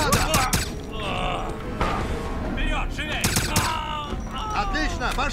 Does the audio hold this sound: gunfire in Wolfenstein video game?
yes